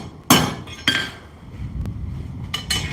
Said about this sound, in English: I'm gonna take it over to the anvil and hit it a few times with a hammer